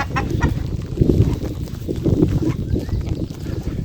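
Several chickens cluck and murmur nearby in a busy, continuous chatter, with occasional rustling and footsteps.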